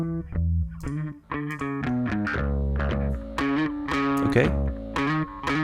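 Electric bass run through Decapitator plugin distortion for more gain, playing a gritty, saturated groove of short, punchy notes with a steady rhythm, loud and up front; a voice briefly speaks.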